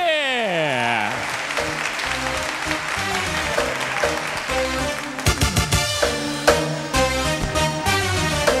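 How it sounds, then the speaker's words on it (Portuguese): Studio audience applause on a Brazilian Sunday television variety show, sustained and steady throughout, with strong musical tones and a band fanfare playing over it. "Vamos aplaudir!"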